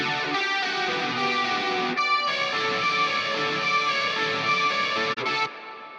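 A sustained, dense musical tone washed in an 8-second reverb at 30% mix, the sound smearing and lingering throughout before a brief break near the end.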